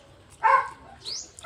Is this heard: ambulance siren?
no